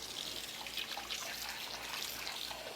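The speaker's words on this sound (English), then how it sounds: "So I'm going to get some water in this bowl." Water runs steadily into a bowl in a homestead kitchen, a faint continuous trickle with light splashing and no talk.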